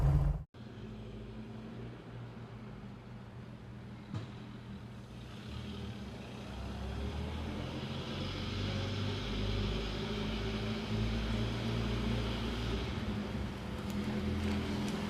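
Mercedes-Benz 300 SL Gullwing driving away, a continuous low engine drone that builds gradually, steady and moderately loud with no talk.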